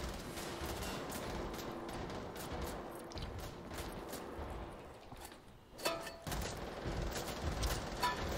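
Gunfire in Wolfenstein: The Old Blood crackles in rapid, dense bursts, loud and continuous through most of the stretch, with a brief lull and then a heavy blast before the shooting resumes.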